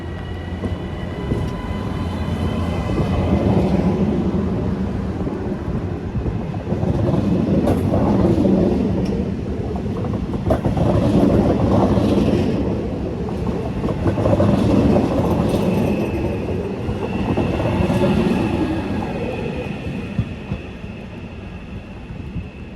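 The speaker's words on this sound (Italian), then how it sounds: "Il treno alta velocità Frecciargento, 97-48 di Trenitalia" A Trenitalia Frecciargento high-speed train moves through Venezia Santa Lucia station in the rain, a loud, steady rumble with rising and falling swells and faint rhythmic clatter, no voices.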